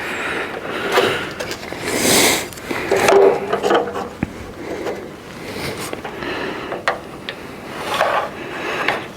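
A pencil rubs and scratches along a wooden board while building a herringbone back porch swing, heard as several close, soft scraping strokes with short pauses and a few light knocks.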